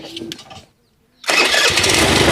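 A homemade hydraulic tipper vehicle's engine cranks briefly, pauses in near silence, then catches and roars into a loud, steady close-up running drone.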